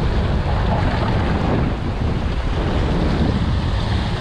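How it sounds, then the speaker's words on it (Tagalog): Strong wind roars steadily across the microphone, a loud, dense rush that blends with what sounds like surf, with no talking. "Malakas na hangin."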